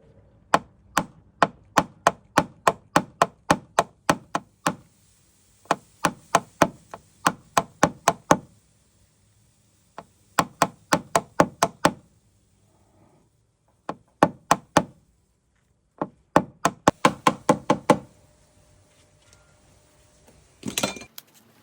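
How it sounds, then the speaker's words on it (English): Hammer and knockdown tool tapping out small dents in a Porsche Carrera 911 panel, heard as rapid bursts of sharp metallic taps in rhythmic clusters with brief pauses between them, close and alone. "So we shall go back in with hammer and knockdown."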